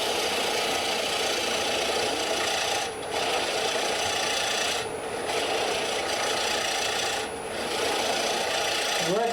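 A metal lathe spins its chuck jaws at 870 RPM, giving off a loud, steady whirring hum with a few brief dips in level. The drone continues unbroken and no voices are heard.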